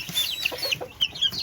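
Backyard chickens, including a mother hen with new chicks, cluck in short irregular bursts with high chirps scattered throughout, close by and without any talk.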